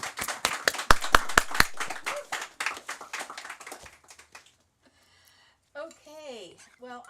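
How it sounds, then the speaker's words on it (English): A live audience at a poetry reading gives a round of applause for a poet, with sharp, near claps and talk mixed in during the first few seconds. Quiet pauses and a few voices follow. "Round of applause for Shizue."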